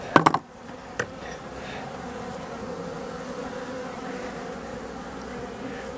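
Honeybees foraging on goldenrod buzz in a steady, close hum, with a few sharp knocks at the start, no speech present.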